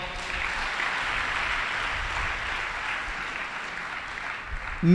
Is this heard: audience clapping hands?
yes